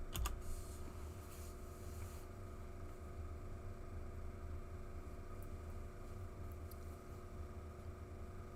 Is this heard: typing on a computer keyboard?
yes